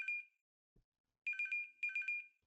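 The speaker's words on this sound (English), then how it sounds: "あ、電話だ。" A phone ringtone in the video game Chaos;Child plays a short electronic melody, then after a pause repeats it twice in quick trilling bursts, clear and close against silence.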